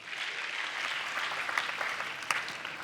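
Audience applause at a live comedy show finale, a steady dense wash of clapping from a crowd that holds evenly for a few seconds with no voices on top.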